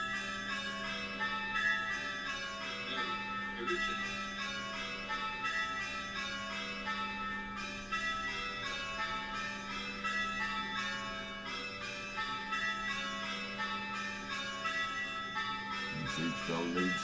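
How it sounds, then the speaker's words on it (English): Church bells ring rounds in steady repeating sequence during change ringing, a continuous bright metallic pealing held evenly throughout with no talk over it. "They're ringing rounds, waiting for the conductor to say go."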